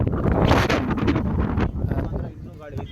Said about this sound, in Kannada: ಇವಾಗ ಏನು ಗಾಳಿ ಬೀಸ್ತಾ ಇದೆ ಅದೇ ಗಾಳಿ ಇದೆ